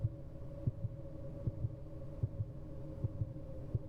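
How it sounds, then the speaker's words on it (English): Heartbeat in the horror dating game Suck for Love: Date to Die For, a steady low double-thump repeating about every three quarters of a second over a dull hum, close and clear with no talking. "I can hear my heartbeat"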